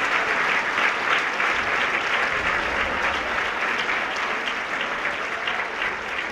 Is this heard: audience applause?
yes